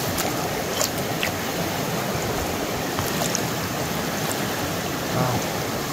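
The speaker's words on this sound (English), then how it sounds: "let's rinse it off" Water splashes and runs steadily over a large serpentine (bowenite) rock outdoors in Oregon, a continuous rushing wash close by with a few brief bright splashes and no talking.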